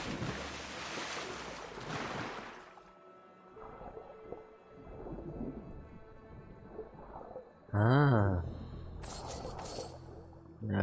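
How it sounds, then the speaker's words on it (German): Ocean water and waves in the Assassin's Creed Odyssey video game, a steady wash of surf and wind with low rumbling, broken by a brief loud tonal game sound near the end. "Also, hier ist übrigens Wasser, ne?"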